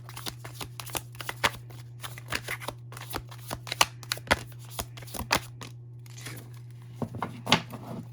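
Tarot cards shuffled by hand, a steady series of crisp riffling and slapping bursts up close over a low constant hum, with a short pause before the shuffling resumes.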